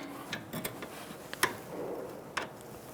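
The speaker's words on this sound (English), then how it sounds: "Snug the bolt down." Ratcheting wrench snugging the bolt on a sway bar link nut at the front strut of a 2007-2011 Toyota Camry, giving a few sharp, separate clicks close by with no one talking.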